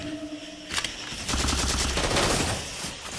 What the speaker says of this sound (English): Here's a storm rifle.